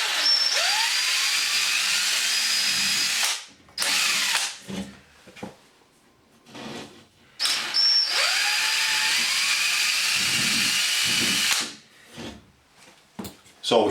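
A power drill spotting through the holes of a shower fixing bracket to mark the wall behind, whining up in two long, close runs with short pauses and handling noises between.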